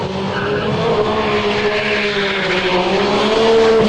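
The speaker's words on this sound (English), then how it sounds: "run was arranged between the 700 horsepower Blitz GTR and the 600 horsepower GTR of GP Performance" Two turbocharged Nissan GTRs, a 700 horsepower Blitz car and a 600 horsepower GP Performance car, screech their tires loudly and continuously as engines roar with a steady high whine throughout.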